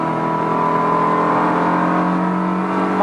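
A Ferrari 360 Modena engine hums and rises as the throttle is pressed, a loud, steady, close drone heard from inside the car with no talk over it.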